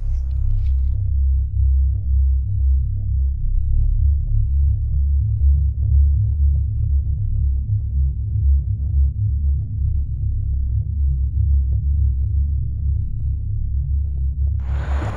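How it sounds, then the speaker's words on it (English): Steady low rumble of heavy vehicle traffic on a main road beside a cemetery at night, a continuous loud drone with no voices over it. "there's still a lot of noise coming from the main road"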